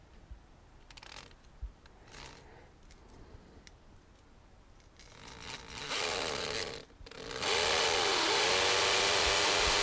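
Power tool driving fasteners into a foundation vent grate on an older house: light handling taps and rattles first, then a drill motor spinning up into a loud, sustained whirring drive near the end.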